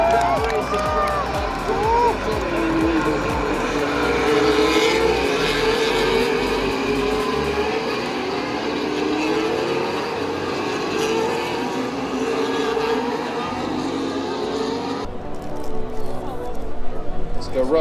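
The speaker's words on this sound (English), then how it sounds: "Here we go again in Montreal with Max Verstappen leading that race" Formula 1 cars race at the 2024 Canadian Grand Prix in Montreal, their engines sweeping past in repeated rising and falling whines over a crowd murmur, with a voice talking throughout.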